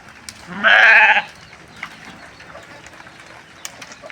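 A single clear bleat from a young male lamb nearby, followed by quiet outdoor background with faint scattered noises.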